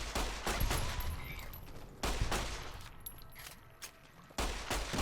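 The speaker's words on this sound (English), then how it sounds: "This gun is awesome, but Jesus Christ, it ran out of ammo so quick." Gunfire in the video game Fallout: New Vegas comes as a faint, rapid run of shots in irregular bursts, with no talking over it.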